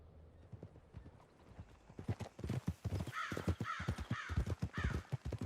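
Horse hooves clip-clop in Red Dead Redemption 2, a steady rhythmic trot of close, crisp hoofbeats, with crows cawing repeatedly in the background during the second half.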